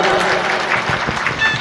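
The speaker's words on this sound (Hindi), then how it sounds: "इसलिए ताली बजा दो एक बार।" A crowd at a village gathering in India claps together, a dense, continuous round of applause at close range with some murmuring voices mixed in.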